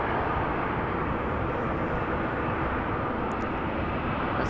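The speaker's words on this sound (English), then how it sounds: "This is Austrian flight 372 A320 going to Vienna." An Austrian Airlines A320-200 lines up for takeoff on a Schiphol Airport runway, giving a steady broadband jet rumble and hiss that stays constant and fairly loud throughout, with no voices.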